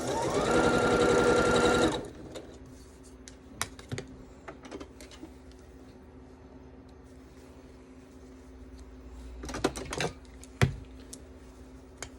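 Sewing machine piecing small quilt scraps for an Irish chain block, with a two-second burst of fast motor whir and needle stitching, then quiet handling clicks and scattered taps.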